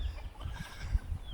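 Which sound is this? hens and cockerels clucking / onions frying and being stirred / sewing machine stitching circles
hens and cockerels clucking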